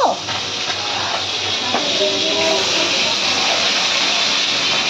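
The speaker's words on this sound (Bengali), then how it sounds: "আর এইদিকে আলু সেদ্ধ করে রাখা হচ্ছে।" Potatoes boil hard in a pot on the stove, giving a loud, steady hiss of steam with rough bubbling underneath that continues unbroken throughout.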